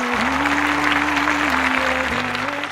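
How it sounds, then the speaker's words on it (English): Wedding guests applaud together in a dense, steady burst of clapping that carries on throughout, while a low sustained tone sits beneath the crowd. "let's cheer for love, everybody"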